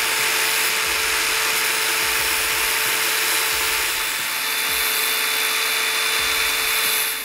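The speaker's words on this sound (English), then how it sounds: "I need to shave like half a millimeter off the side of the motherboard." A power tool shaves about half a millimeter of plastic off the side of a motherboard case for a small DIY electric unicycle, giving a steady, close whine with a constant high grinding hiss throughout.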